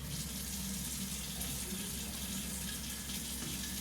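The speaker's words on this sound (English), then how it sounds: "go ahead, wash your hands again." Running tap water splashes steadily over hands being washed at a sink, a continuous close hiss and gush with no talking.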